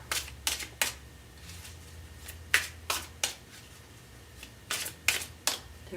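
Tarot cards being shuffled up close, a series of quick crisp riffling bursts and flicks in irregular clusters, fairly faint, with no talking.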